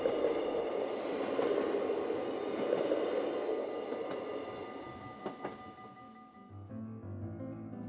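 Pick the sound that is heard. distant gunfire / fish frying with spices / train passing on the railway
train passing on the railway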